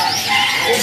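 Canaries chirp and tweet continuously inside a bird shop selling males and females, a dense, bright chatter of several birds at close range with no voices over it.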